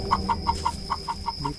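A chicken in a Bisaya horror game clucks in a quick, evenly spaced series of about eight short, sharp calls, close and clear.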